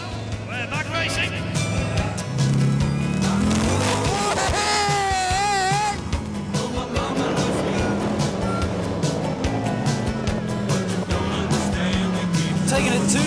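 Race cars in a video game roar and whine after the green flag, several engines droning and pitching up and down through gear changes, with a voice talking over them much of the time.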